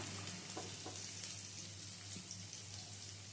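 Chopped onion frying in a pan for pahadi chaunsa dal, heard as a faint, steady hiss with a low hum and a few soft stirring taps.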